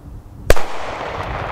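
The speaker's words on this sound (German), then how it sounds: "C-Böller." A single sharp, loud blast from a class C firecracker that cuts through quiet background noise, followed by a rumbling echo trailing off.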